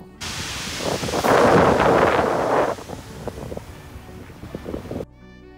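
Strong wind at Brighton beach buffets the microphone in a loud, roaring gust that eases into gentler gusty rumbling, with surf faintly underneath.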